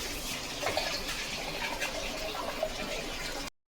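Rice and moong dal are swished and rinsed in water in a kitchen, a continuous soft sloshing and trickling, close and fairly quiet, ending abruptly.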